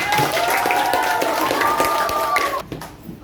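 Classmates clap together at the end of a lesson, a dense patter of hands lasting a few seconds under a voice speaking over it, then fading abruptly to near quiet.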